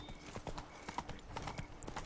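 The horse Roach trots in the video game The Witcher 3, a quick, steady clip-clop of hooves heard close and fairly loud over a dense background, with no speech.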